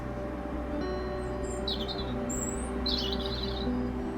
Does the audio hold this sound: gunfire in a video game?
no